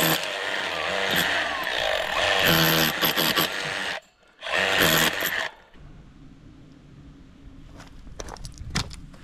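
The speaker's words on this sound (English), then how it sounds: "I am going to have to cut this pier." A power tool cuts through a gate pier in a loud, harsh grinding burst that stops briefly, resumes, then gives way to quieter scraping and clanks, close up with no talking.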